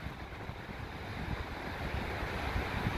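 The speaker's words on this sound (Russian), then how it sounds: "Балтийское море, Юрмала." Waves of the Baltic Sea at Jurmala wash steadily onto the shore, a soft continuous rush of surf mixed with wind noise on the microphone, with no talking.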